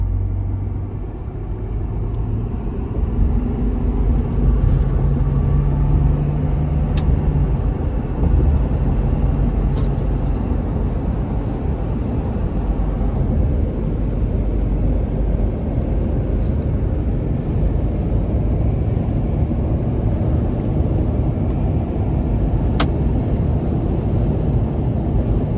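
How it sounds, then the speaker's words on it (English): A 2023 Ford F-250 XL heavy-duty truck with the 6.7 Powerstroke diesel cruises along, a steady low rumble with road and wind noise filling the cab throughout. "As I'm driving it and getting used to it, it's pretty agile for a heavy duty truck"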